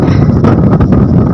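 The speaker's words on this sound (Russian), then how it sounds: "Ветер опять начинает поднимать снег." Strong wind sweeps snow through the air in an outdoor winter blizzard, a steady loud roar of gusts with buffeting against the microphone, and no voices.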